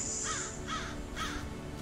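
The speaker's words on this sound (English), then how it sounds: "That's a lot of birds." Three harsh crow caws from a video game, evenly spaced and moderately close, standing alone over a faint background.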